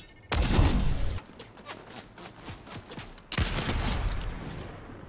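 Sniper rifle fire in Fortnite: two loud, sharp shots about three seconds apart, each with a booming, slowly fading tail, with faint footsteps and game noise between them and no talking.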